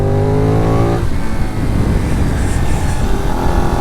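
A Benelli 752S motorcycle engine hums at a steady low pitch for a moment and then becomes a loud, rough, close engine roar during a test ride, without pause to the end.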